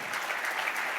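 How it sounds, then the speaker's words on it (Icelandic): A live audience claps steadily and warmly at an annual meeting on stage, dense even applause filling the whole moment with no voices on top. "Gefum henni góð klapp"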